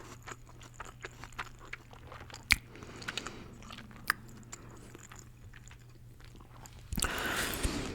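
Sushi eaten during a whispered ASMR mukbang gives soft, close, wet chewing and a few sharper crunchy bites, quiet and intimate, ending with a brief rustling burst.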